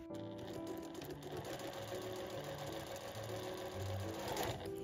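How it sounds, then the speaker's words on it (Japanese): A sewing machine fitted with a step presser foot stitches through two layers of fabric for a flap tote bag, with a steady continuous motor hum and needle rattle running close and unbroken throughout. "2枚重ねた状態で縫っていくようになります。"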